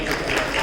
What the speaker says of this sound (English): Could we clap for her?